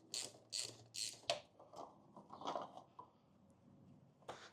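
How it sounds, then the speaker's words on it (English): A ratchet with a 32 mm socket loosens the oil filter on a Saab 9-3, giving a few quick clicking bursts followed by softer scattered ratcheting and handling sounds, quiet and close. "While we let that drain, we can remove our oil filter, which is tucked down in here."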